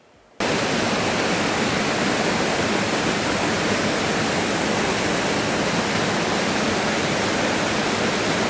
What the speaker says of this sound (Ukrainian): тут дуже шумить вода